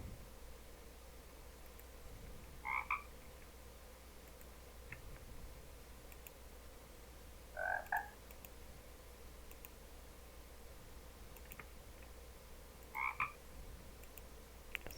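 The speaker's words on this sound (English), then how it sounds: "They are randomly spellcasting frogs" Frogs croaking in the Minecraft video game, three short, clear croaks spaced about five seconds apart over a faint steady background hum, with no talking.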